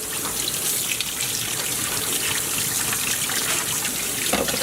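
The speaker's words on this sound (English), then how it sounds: "Dump it out. Give it a rinse." Water from a tap rinses a pan used for stir-fried shrimp, a steady, loud, close gush with splashing that runs throughout without pause and with no talk.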